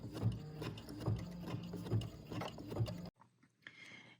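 An embroidery machine stitching a scissor case design runs with a steady mechanical whir and rhythmic clicking thumps about once a second, close and quiet, then stops and leaves a faint hum.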